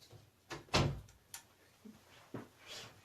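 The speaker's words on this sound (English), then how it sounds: "I'm gonna open the door and let my dog out." A house door is opened to let a pet dog named Zuzu outside, giving a few separate knocks and clunks from the latch and frame, close by and moderately loud, with quiet gaps between them and no talking.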